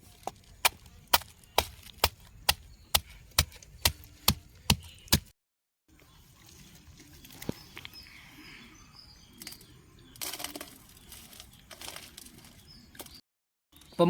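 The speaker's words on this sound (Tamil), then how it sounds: "நல்லா தட்டி எடுத்துக்கலாம் ஓரியோ பிஸ்கெட்டை" Oreo biscuits being pounded to crush them, about a dozen sharp evenly spaced knocks, then a pause followed by softer irregular tapping and rustling.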